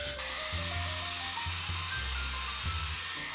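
A continuous loud hairspray hiss sprays nonstop throughout, close to the listener, coating a lace wig, with a faint low hum beneath it.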